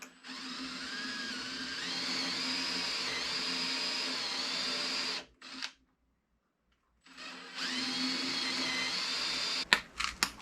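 A handheld power drill with a 1/4 inch bit bores a dowel hole into an old screen door, whining loudly for about five seconds, stopping briefly, then running again for two more seconds before a few clicks.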